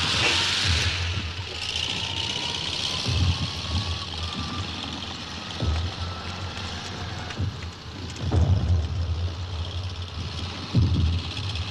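Car engine running steadily on a rainy street, a low continuous rumble with periodic swells, under a heavy wash of rain and no speech.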